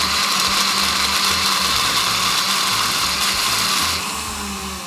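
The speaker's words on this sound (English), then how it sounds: "Then we blend it." A blender whirs loudly and steadily up close, pureeing roasted parsnip and pumpkin soup with stock, the motor drone constant before easing slightly toward the end.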